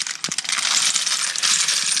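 Metal coins freshly dug up while metal detecting clatter and jingle as they are poured from a drum into a colander, a dense continuous metallic rattle with one sharper clink near the start.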